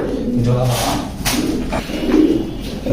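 Pigeons in a loft, including a breeding pair, coo in low, throaty bursts close by, with a soft murmur of other activity underneath.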